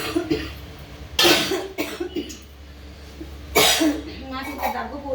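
A person coughs twice, sharp and close, with quieter breathy sounds and faint background noise between the bursts.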